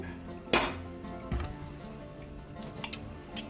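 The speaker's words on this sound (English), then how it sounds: "All right, so I have 2 glass pans, Pyrex." Glass Pyrex baking pans knock together in a few sharp clinks, one loud clink early and softer taps after, with quiet background.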